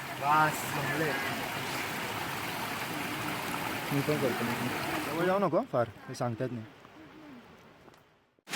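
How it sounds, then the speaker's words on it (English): A Himalayan mountain stream on the Roopkund trek in Uttarakhand rushes in a steady wash of flowing water, with voices talking over it before it suddenly drops away near the end. "you get the honor of drinking fresh sparkling water from the Himalayan streams"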